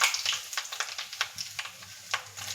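Dried red chillies sizzle in hot oil with popped mustard seeds, making a soft, close frying hiss scattered with light crackles and pops.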